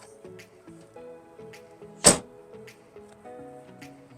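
A single solid thunk as the tailgate of a 2017-2020 Honda Ridgeline pickup is swung shut, a short loud impact standing out midway through soft background music.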